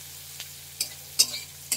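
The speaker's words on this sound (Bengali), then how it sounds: "এই যে পেঁয়াজ কুচি দিলাম, দিয়ে এইভাবে নাড়তে থাকবো।" Chopped onion stirred as it fries in a pan, four short spatula scrapes spaced apart over a faint sizzle and a low steady hum.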